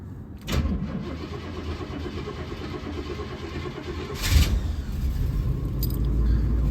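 A 1990 Oldsmobile Custom Cruiser station wagon engine cranks and catches near the start, then settles into a steady idle, with a second loud revving surge around the middle and a continuing low rumble after it.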